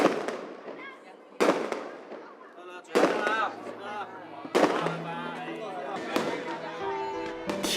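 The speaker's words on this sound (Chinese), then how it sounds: "听着不间断的鞭炮声" Firecrackers burst during New Year celebrations in China, with sharp loud bangs at a few irregular intervals, one every second or so, over continuous background chatter and voices of a family gathering.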